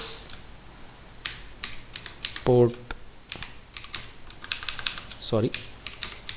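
Computer keyboard keys tapped in scattered light clicks, with a couple of louder, sharper key strikes such as an Enter press standing out, close and fairly quiet with no talk.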